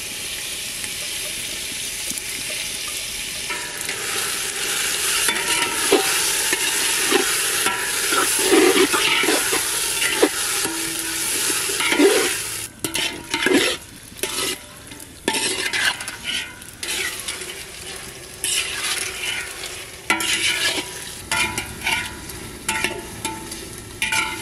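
Duck meat cooks with spiced water in a clay handi, sizzling and bubbling loudly while a utensil stirs and scrapes the pot in uneven strokes, the hiss briefly easing partway before returning, with no talking.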